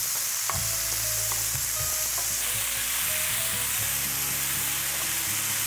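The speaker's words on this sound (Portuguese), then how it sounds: "Fiozinho de azeite, de oliva. Aqui é o bacon e a calabresa. Nós vamos refogar ela." Bacon and calabresa sausage sauté in a thin drizzle of olive oil for a creamy cassava soup. A loud, continuous close sizzle and crackle runs throughout, with stirring and no voices.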